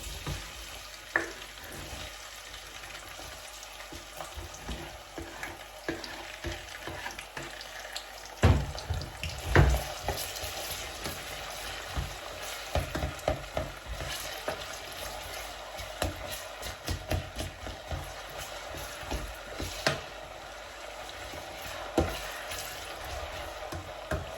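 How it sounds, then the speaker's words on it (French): Onions fry in hot oil with a soft continuous sizzle, while quiet clinks and scrapes of stirring and a few sharper knocks rise above it, fairly faint and with no voices. "Une fois que l'huile est chaude, je vais verser mes oignons."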